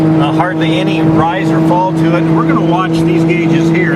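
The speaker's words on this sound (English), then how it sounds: "hopefully you can hear the engine in the background" A Saab two-stroke engine drones steadily while the car cruises a flat Iowa road on a cool day, a constant low hum running beneath continuous close talk from a person in the car.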